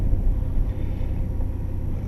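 A 1990 Nissan Skyline R32 GTR twin turbo driving, its engine a steady low rumble with road and wind noise heard from inside the car, no voices.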